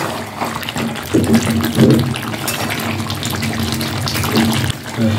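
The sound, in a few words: water poured into chicken curry pot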